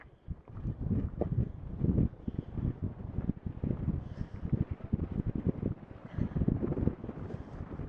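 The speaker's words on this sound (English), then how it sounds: "It's windy up here," Strong, steady wind buffets the microphone atop a 12,730-foot alpine pass in southern Colorado, roaring with gusty surges throughout and no talk.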